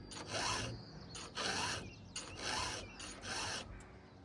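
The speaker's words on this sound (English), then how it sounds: "So I'm doing that kind of a filing right now." Hand file strokes sharpening a chainsaw chain, a steady rasping rhythm of four drawn scrapes, each roughly a second long with short pauses between, close and fairly quiet with no voices.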